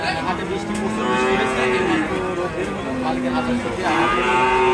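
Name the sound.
cattle mooing at a livestock market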